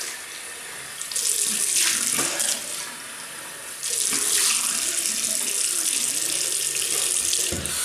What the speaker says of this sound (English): Okay, rinse off.